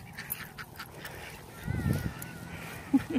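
Ducks and geese call at a pond where turtles gather, with honks and quacks rising in the middle of the stretch and a couple of sharper calls near the end over light outdoor background noise.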